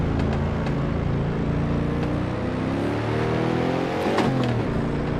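A video game car engine in Assetto Corsa drones with a rough, propeller-like hum like an old plane, steady throughout and rising briefly in pitch near the end, with no talking.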